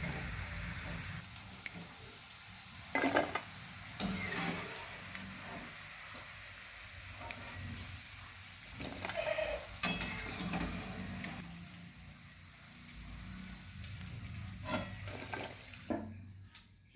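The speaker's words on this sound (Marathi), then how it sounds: "हे सगळं पापड आता असंच तळून घेते." Papad is deep-fried in hot oil, a close crackling sizzle that swells in bursts as pieces go in and puff up, then eases to a softer hiss between them.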